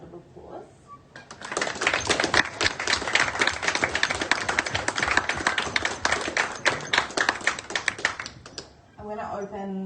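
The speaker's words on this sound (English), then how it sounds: "Please give them all a round of applause." Audience applause at a public women's day panel, a dense burst of clapping that swells and holds for several seconds, then stops as a voice resumes.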